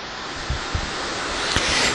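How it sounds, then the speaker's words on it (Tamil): Wind blows steadily outdoors as a broad, even rush buffeting the microphone, with a few soft low thumps, brief and fairly loud. "இப்போ ஒரு காற்று அடிக்குது,"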